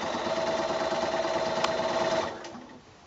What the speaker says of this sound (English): So I'm just stitching, remember, quite close to that edge. all the way around